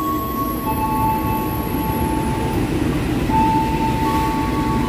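A heavy 1938 vintage train rumbles steadily close by as it arrives at Cikampek station, its low engine drone and rolling noise constant, with faint tonal whines riding on top.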